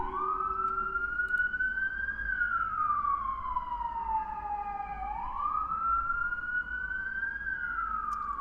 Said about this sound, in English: Excuse the ambulance that's going by.